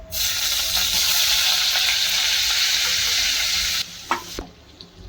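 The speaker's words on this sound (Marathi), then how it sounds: "मी इथे ऑइल टाकलं त्याच्यामध्ये इथे बटर ॲड करते मी" Butter melting into hot oil in a pan for pav bhaji gives off a loud, steady sizzle that cuts out abruptly near the end, followed by a few light clatters.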